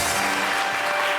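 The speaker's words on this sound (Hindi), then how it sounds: "बहुत सारी तालियां नदीम जाफरी के लिए।" A studio audience claps for guest Nadeem Jafri on a TV entertainment show, dense continuous applause, loud and close, filling the whole moment without a break.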